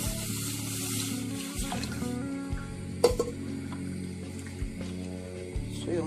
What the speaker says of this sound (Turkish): Soğuk su ilave ediyoruz.